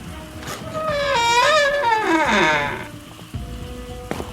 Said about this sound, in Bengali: বাইরে এক টানা ঝমঝমিয়ে বৃষ্টি